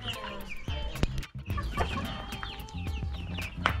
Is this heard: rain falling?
no